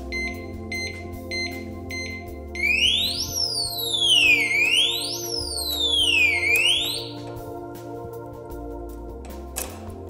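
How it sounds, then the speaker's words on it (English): A piercing electronic alarm on an Abus Trigger motorcycle disc lock wails in rising and falling sweeps over a steady low drone, after a quick run of short beeps. "Great shock sensitive alarm system"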